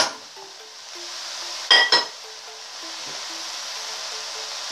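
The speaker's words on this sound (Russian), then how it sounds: "Накрываем крышкой." A lid set onto a pan of stewing cabbage with sausages gives two quick, close metallic clinks with a brief ring, over the steady low hiss of the simmering pan.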